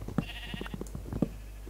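Sheep in Minecraft give two short, low bleats about a second apart, with faint game ambience between them.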